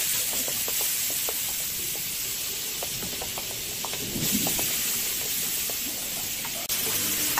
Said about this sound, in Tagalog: At gigisa na nga natin ang aming bawang sibuyas at kamatis.